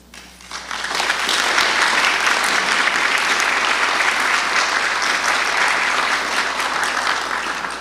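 An audience at an academy event breaking into applause, rising quickly from quiet into a loud, dense wash of clapping that stays full and sustained before easing slightly at the end.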